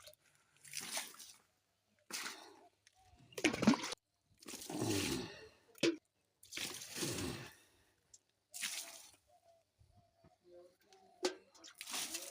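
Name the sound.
water being poured onto garden plants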